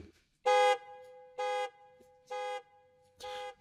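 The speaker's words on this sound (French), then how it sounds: "je vais rajouter un effet d'écho" A car horn toots once, then the same honk repeats three more times, each fainter as it echoes away with a lingering tail.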